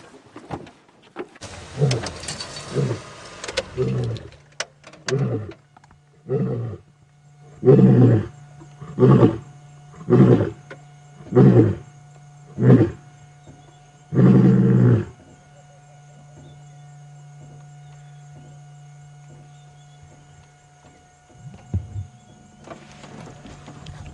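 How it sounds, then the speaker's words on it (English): A male lion roars on the move at sunset on safari, opening with several rising grunting calls, then a run of deep, evenly spaced powerful grunts, fairly close and loud, before fading into quiet ambience with a low engine hum. "let's go back to a male lion on the move"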